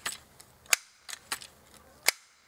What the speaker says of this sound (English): It's a pump action gun, so we're going to put about 10 pumps on this gun.